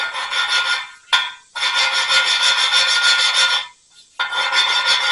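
A suction-cup valve lapping tool rubs and grinds a valve against its seat in a Kohler K-241 engine block, making harsh, raspy swirling bursts broken by short pauses.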